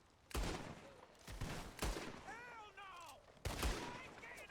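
Pump shotgun blasts in Red Dead Redemption 2, three sharp booming shots spaced about a second or more apart, loud and close, with a voice and a whistle-like game sound between them.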